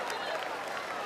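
A packed homecoming crowd at a college football game between Florida Atlantic and Tulane claps steadily, a broad wash of applause under a commentator's voice.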